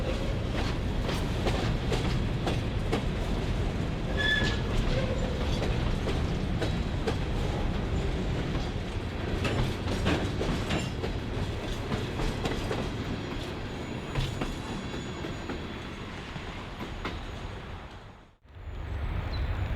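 A CN all-rail iron ore freight train passes near Gladstone, a steady heavy rumble with rhythmic clickety-clack of wheels on rail joints, loud and close throughout before it drops away abruptly at the end.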